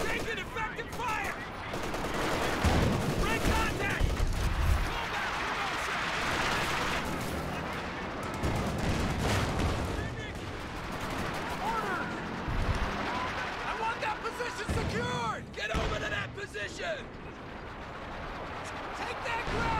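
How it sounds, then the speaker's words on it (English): Dense, continuous gunfire and artillery rumble fill a Company of Heroes 2 battle on Vilshanka, with rapid rifle and machine-gun bursts and heavy booms layered over shouted soldier voices throughout. "We're taking effective fire."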